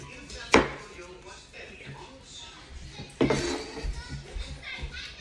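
A knife chops onions on a board in a home kitchen, with two sharp, loud chops standing out against background chatter and children's voices.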